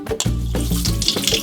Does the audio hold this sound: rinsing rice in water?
yes